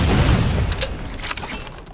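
A grenade blows up in the video game Halo 4 during a free-for-all match, a loud close blast with a rumbling, crackling tail that fades over about two seconds.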